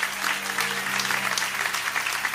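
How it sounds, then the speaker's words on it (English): A church congregation at a Sunday choir service claps steadily, a loud continuous patter of many hands with a low sustained organ-like hum underneath. "clap them."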